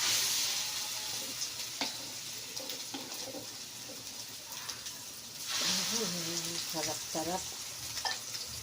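Tiny dulong fish frying in hot oil crackle and sizzle steadily up close, with occasional stirring clinks, while a person talks over the cooking.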